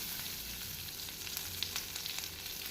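Curry leaves hit hot oil while tempering a traditional Tamil garlic gravy, giving a dense, steady sizzle with small crackling pops throughout.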